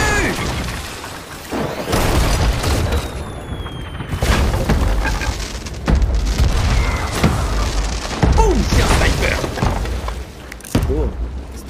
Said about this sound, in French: très beau ce qui se passe, les feux d'artifice là.